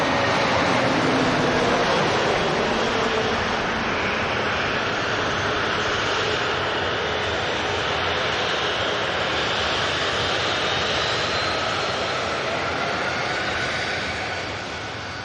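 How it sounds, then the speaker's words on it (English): An EasyJet airliner touches down at Manchester Airport with a loud, sustained jet roar and broad rushing noise that holds steady, then begins to fade in the final seconds. "Absolute greaser from the EasyJet"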